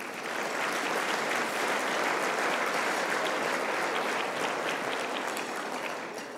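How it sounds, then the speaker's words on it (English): Steady, dense applause from a large crowd, loud and sustained throughout, easing slightly at the end. "Give yourselves a round of applause."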